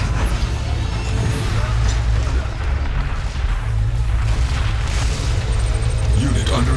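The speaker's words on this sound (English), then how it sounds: "Tiberium explosion detected." Explosions and booming blasts in the real-time strategy game Command & Conquer 3: Kane's Wrath, a dense, continuous rumble of battle detonations with a voice announcing over the din.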